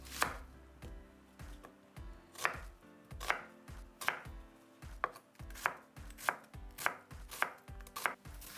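A knife chops vegetables such as carrot, onion and peppers on a board in a steady rhythm of sharp, close, crisp strikes, about two per second, with no voices.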